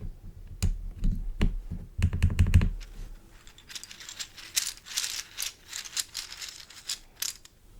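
Keys of a QWERTY computer keyboard clack close up, first in a few scattered heavy presses and a quick burst, then a lighter stretch of irregular tapping.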